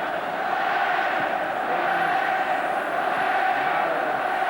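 A large stadium crowd at a rugby league cup final between Hull KR and Widnes gives a steady, dense roar that stays at an even level throughout, with no single voice standing out.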